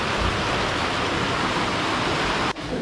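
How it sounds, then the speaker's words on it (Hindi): Steady heavy rain pours down outdoors as the weather turns bad, a dense, continuous broadband wash that stays loud and even throughout, then drops off abruptly near the end. "ऊपर पड़ रही है बारिश।"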